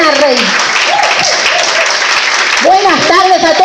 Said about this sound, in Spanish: vamos a recibir con un gran aplauso a nuestra pastora maravillosa, Susana Rey.